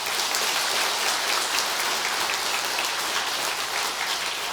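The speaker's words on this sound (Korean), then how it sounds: "여러분 또 감사의 박수 부탁드리겠습니다" A church congregation at a New Year's Eve service gives steady, dense applause, an even wash of many hands clapping with no break for several seconds.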